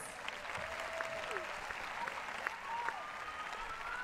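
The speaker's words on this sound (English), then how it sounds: "That deserves a round of applause." A tennis crowd at a Cilic versus Bedene match applauds with a steady, even patter of clapping heard from a distance, fairly soft, while faint voices come through underneath.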